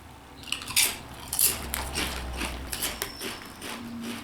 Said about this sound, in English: It's got a really powerful crunch.